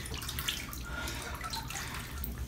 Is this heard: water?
yes